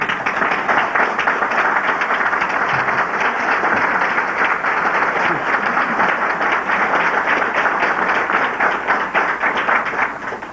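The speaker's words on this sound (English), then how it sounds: "Would Edward Smith receive our applause?" A seated audience at a 1990 City Club of Cleveland public forum breaks into sustained, dense applause lasting about ten seconds, steady and loud throughout with no voices rising above it.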